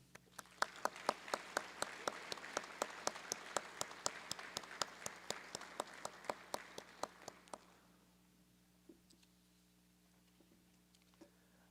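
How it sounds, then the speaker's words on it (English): Applause from an assembled audience in a legislative house chamber for honorees, steady clapping for several seconds that then stops abruptly, leaving near silence with a few faint scattered sounds. "let's have another round of applause for the honorees"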